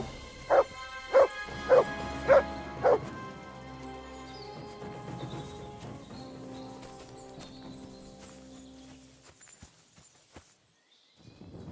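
Dog Mutt from Kingdom Come Deliverance II barks five times in a quick, evenly spaced burst, close and loud, followed by a longer stretch of game ambience with faint hoofbeats and footsteps.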